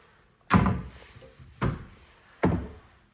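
A kitchen door knocks against the frame above it three times, each a sharp, fairly loud thud followed by a short decay, spaced about a second apart in an otherwise quiet room.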